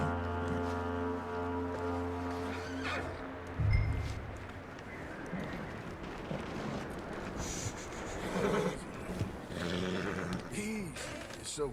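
A horse in Red Dead Redemption 2 gives a few snorting, whinnying calls midway, heard against a low sustained drone and game ambience with brief thumps.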